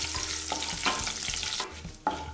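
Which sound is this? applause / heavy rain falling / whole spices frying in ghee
whole spices frying in ghee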